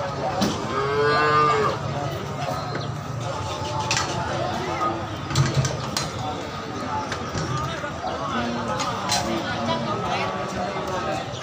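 Cattle moo repeatedly at a busy livestock market, several drawn-out calls near and far amid crowd bustle and knocks, with people talking throughout.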